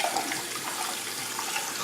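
Cold tap water runs steadily while something is rinsed by hand, a close, continuous splashing rush with no voices.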